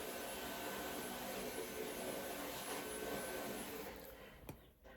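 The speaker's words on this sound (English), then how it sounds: "I might have to stop for a minute while Aidan runs through here with the vacuum." A household vacuum cleaner drones steadily and loudly as it is run through a room during a makeup session, its broad whooshing roar holding constant before tapering off near the end with a brief knock.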